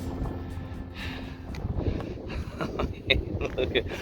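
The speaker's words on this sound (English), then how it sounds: "It's been far too windy," Gusty, cold wind on a walk along Hadrian's Wall buffets the microphone in a continuous low rumble, with faint murmuring voices underneath.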